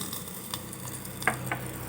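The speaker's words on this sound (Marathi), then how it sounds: "असा चर्र असा आवाज याय यायला पाहिजे म्हणजे या कोशिंबिरीला छान तडका बसतो" Hot tempering of mustard seeds and cumin poured over green chilli pieces for a carrot koshimbir, giving a steady soft sizzle with faint crackles and a small pop near the middle, no talking.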